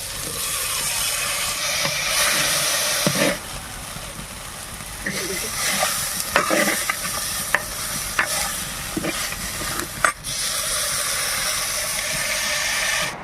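Tomatoes hit a hot frying pan after chili powder, for a dried goat meat curry, and are stirred: steady sizzling hiss broken by scraping stirs and sharp clanks of the spoon against the pan, close and fairly loud.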